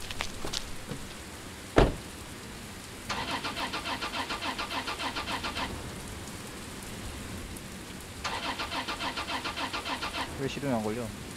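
Car engine in a horror video game failing to start, two bursts of rapid rhythmic starter cranking that never catch, over steady rain, with a sharp thud before and a voice speaking.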